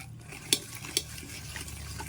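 Milk is mixed into an almond kulfi mixture in a vessel, a soft swishing stir broken by two sharp spoon clinks against the rim, close and quiet, with no speech.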